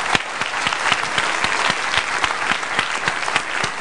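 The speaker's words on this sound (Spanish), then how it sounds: "Y yo les exhorto a que den nuevamente un aplauso al Padre Fortea." An audience in a hall applauds a guest priest on a Spanish talk show, a dense, steady round of clapping with sharp individual claps standing out, lasting throughout.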